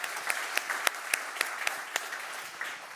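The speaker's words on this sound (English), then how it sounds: "So, applause for Bernie." Audience applause at the closing of the WorldDAB Automotive 2026 conference, fairly faint and distant, with a steady patter of many hands and a few sharper individual claps standing out.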